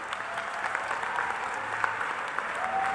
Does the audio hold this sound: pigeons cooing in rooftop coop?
no